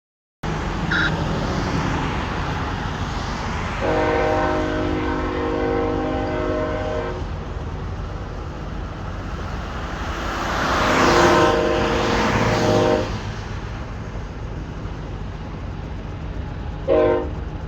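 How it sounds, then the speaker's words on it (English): A CSX freight train rumbles past with a continuous heavy roar, its horn sounding in long blasts, swelling louder as it passes close by. "We also have a CSX train coming through on the KD sub"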